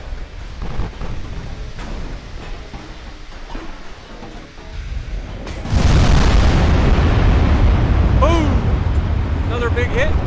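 Heavy battleship guns boom and shells strike in a naval battle in Ultimate Admiral Dreadnoughts, a loud sustained blast rolling in midway after rumbling gunfire, with someone talking over the action.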